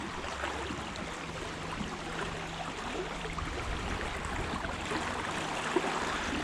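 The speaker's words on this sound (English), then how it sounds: "Water is moving so incredibly fast." Fast-moving river water rushes through a stream near an old mine town, a steady broadband roar of turbulent flow, close and continuous with no voices.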